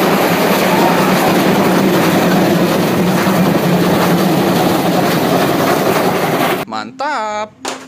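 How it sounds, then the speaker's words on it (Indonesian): A train passes close by with loud, continuous rumbling and rail clatter, ending abruptly as a voice speaks in the final second. "Ada kereta api teman-teman."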